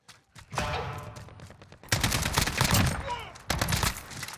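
Bursts of rapid automatic gunfire in Call of Duty Modern Warfare, loud and close, arriving in several volleys separated by short gaps.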